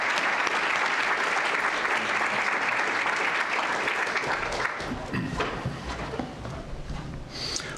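Sustained applause from a lecture audience welcoming the speaker of a distinguished lecture series, a dense steady clatter of clapping that thins slightly toward the end.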